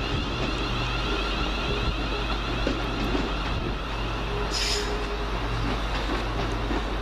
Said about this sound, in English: Just now leaving the slightly delayed 11:19 London Midland service from Wolverhampton here to Walsall via Birmingham New Street